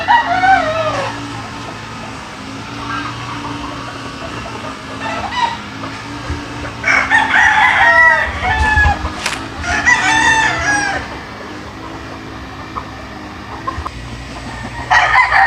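Gamecock roosters, a Boston crossed with Golden Boy, crowing repeatedly nearby over a busy yard background, with several overlapping cock-a-doodle-doos and some clucking.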